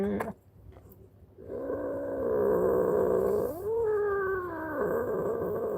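An angry female cat growls up close, a low, sustained, rumbling growl that swells into a drawn-out, rising yowl before settling back into growling.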